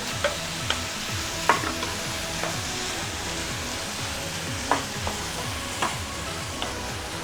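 Onions and green chilies sautéing in a pan for chilli chicken make a constant sizzle, with spaced spatula scrapes every second or so over soft background music.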